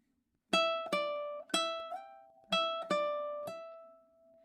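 Fingerstyle ukulele plays the opening measure of a summery tutorial song: about seven clear plucked notes and small chords in a steady rhythm, close and quiet, each ringing briefly before the next.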